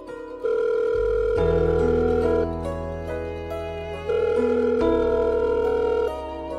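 A telephone tone sounds while a phone call is placed, with steady sustained beeps in two long bursts separated by a short pause, close and clear with no talking.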